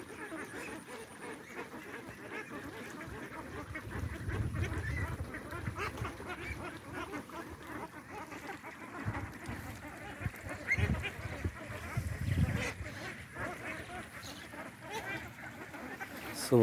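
Ducks on a Bangladeshi farm pond quack and honk repeatedly while splashing in the water, a busy flock at moderate distance with bursts of louder calling and a person speaking now and then.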